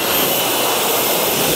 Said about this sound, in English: that's the blower, isn't it?